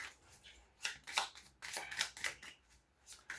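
A deck of tarot cards being shuffled by hand, giving a run of crisp riffling bursts and soft slaps at close range, quiet, with no voices.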